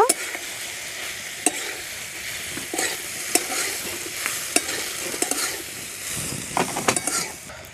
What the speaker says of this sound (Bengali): এখন দিয়ে দিচ্ছি পাস্তা। দেখুন পাস্তাগুলো একদম ঝরঝরে, একটাও কেউ কারোর সঙ্গে লেগে যায়নি।